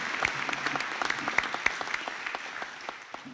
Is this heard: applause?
yes